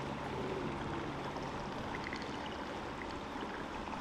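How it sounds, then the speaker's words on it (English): Faint, dense crackling and fizzing of melting ice floating in Alaskan ocean water around a fiberglass sailboat, a soft continuous sputter of tiny pops over a low watery wash. "You can hear the crackling of the ice as it's melting in the ocean."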